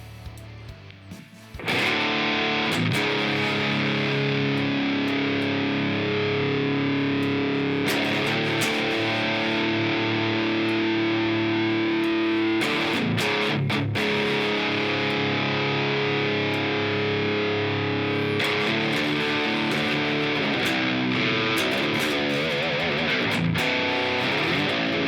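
High-gain baritone guitar patch on a Line 6 HX Stomp: after a short quiet lead-in, heavily distorted chugging riffs ring out loud and sustained, with brief breaks and a few choppy stops between phrases.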